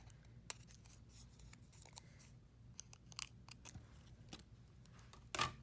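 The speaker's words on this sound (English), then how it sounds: "you'll just trim from the back side off the excess." Faint, close scissors snips trim excess paper from the back of a pop-up holiday card, scattered short cuts at irregular intervals with a sharper burst at the end.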